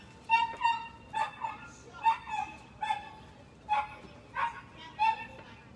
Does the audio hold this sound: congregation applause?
no